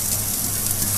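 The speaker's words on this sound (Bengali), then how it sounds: "নারকেল গুলাম ভেজে নেব" Grated coconut frying in a pan for coconut naru sweets, a steady dense sizzle with a constant low hum beneath, close and even throughout with no talking.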